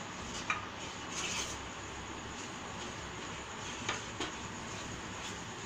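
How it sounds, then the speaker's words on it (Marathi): Wheat flour is stirred into hot ghee in a metal pan, giving a soft continuous sizzle with faint scraping and occasional light clinks of the spoon against the pan, with no talk. "आपलं तूप गरम झालं आहे त्यामध्ये घालूया कणकीचं पीठ"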